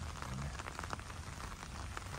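Rain falls outdoors at the Iwatoyama burial mound in Fukuoka, Japan, in June as a dense, steady patter that fills the whole stretch. Nobody speaks.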